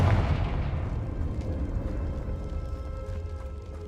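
A fiery explosion from the Confringo spell in Hogwarts Legacy: a heavy boom up front that decays into a rumbling, crackling tail lasting a few seconds.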